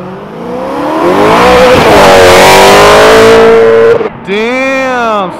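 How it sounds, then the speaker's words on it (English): A car engine at a street car show revs hard and loud, climbing and falling through several throttle blips before a brief drop and another sharp rev, with onlookers' voices faintly underneath. "Rev it. Rev it. Get on that. Come on, step on it."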